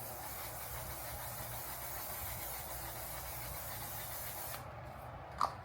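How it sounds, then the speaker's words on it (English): A continuous, close hiss of makeup setting spray runs for several seconds before cutting off, followed by a small click. "Just going to spray it with the one size."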